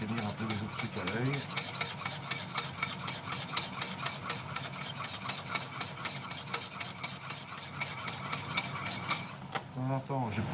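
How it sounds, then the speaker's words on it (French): Rapid, steady whisking rattles against a metal saucepan, a continuous scraping rhythm with bright clinks, close by and fairly loud throughout. "je vais battre énergiquement ceci"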